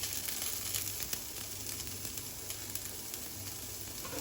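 Finely chopped onion frying in a pan with garlic and ginger for sambar, a quiet, even sizzle with a few faint stirring clicks, close but soft, with no voices.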